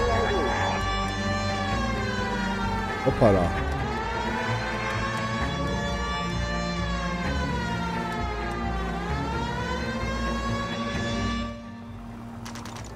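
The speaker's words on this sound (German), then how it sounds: "wir haben vergessen, die Sirene anzumachen" A police car siren wails steadily in the 1940s-era video game L.A. Noire, its rising and falling tone cycling over a constant engine hum, loud and close, with a brief spoken exclamation over it.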